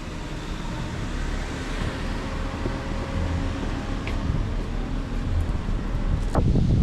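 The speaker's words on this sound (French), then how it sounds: "le vent se lève d'un coup, comme s'il y avait un orage qui s'en venait" A broad, steady rush of wind builds suddenly in Cebu, Philippines, roaring against the microphone, with faint traffic-like rumble beneath and no voices.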